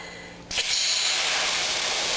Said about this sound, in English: Look at that steam as I lifted the lid off.